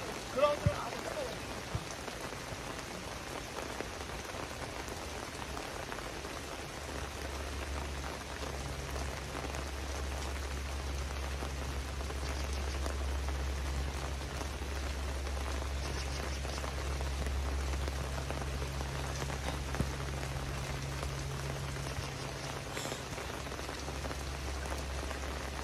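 Rain falls steadily on an outdoor football pitch, a soft continuous patter that holds for the whole stretch with a low hum joining partway and a few faint taps near the start.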